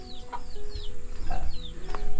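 Several chickens clucking and squawking nearby over low background noise, short calls repeating every half second or so.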